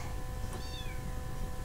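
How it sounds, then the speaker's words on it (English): A house cat gives one brief, clear meow that rises and falls, close and moderately loud indoors, with no talking over it. "Sorry, I got a new cat the other day."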